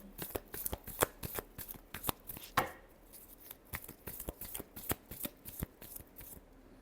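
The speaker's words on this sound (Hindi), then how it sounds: "Last shuffle." Tarot cards are shuffled by hand in a quick run of crisp, riffling slaps and flicks, close and fairly quiet, with no talking during the shuffle.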